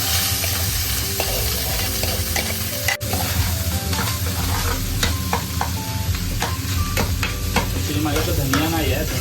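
Rice added to a pan with cumin and stirred for jeera rice, a continuous sizzle overlaid with repeated clattering scrapes and knocks of a spoon against the pan.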